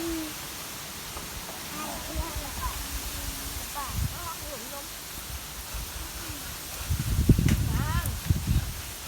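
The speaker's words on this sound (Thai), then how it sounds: "ลมแรงมากเลยค่ะวันนี้" Strong wind blows outdoors, gusting softly and then buffeting heavily near the end under someone talking.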